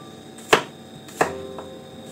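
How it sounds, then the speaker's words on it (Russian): Garlic is cut with a knife on a board in a home kitchen, two sharp, distinct chops about a second apart and then a fainter third tap, close and clear over a quiet hum. "Поэтому чеснок сюда режу ножом."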